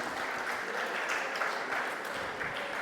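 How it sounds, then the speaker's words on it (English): A crowd at a school alumni association's 40th-year celebration in Chennai claps steadily, a fairly quiet, even round of applause with no voices over it. "can we all have a round of applause for just the woman that she is,"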